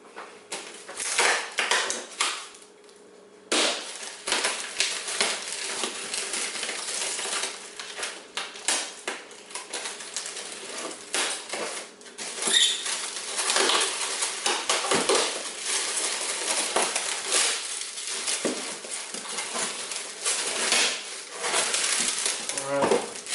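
A knife slices through cardboard and packing on an Acer Predator XB241H monitor box, with dense scraping, tearing and clattering handling noises running nearly continuously at close range, one brief pause early on.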